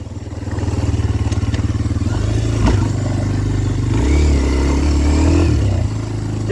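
A Kawasaki KLX230R dirt bike on backwoods trails, its engine loud and close, pulsing steadily and then revving up and down through short bursts of throttle, with a few clattering thumps from the ride.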